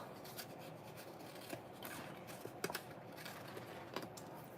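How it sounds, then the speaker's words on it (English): Long craft scissors trim cardstock at a card-making table, a few quiet crisp snips and small rustles close by, with no talking. "just going to grab my big long scissors"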